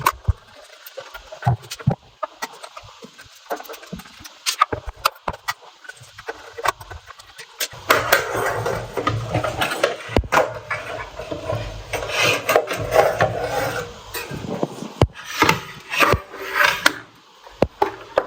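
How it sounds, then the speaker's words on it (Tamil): Screws being unscrewed from the metal casing of a Hikvision NVR, with close, repeated scraping and rasping turns of a screwdriver, sparse at first, then busier scratchy bursts. "இதுலேயும் கொஞ்சம் ஸ்க்ரூ ஓப்பன் பண்ணுவோம்"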